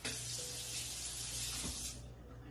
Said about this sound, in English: We're going to add a little water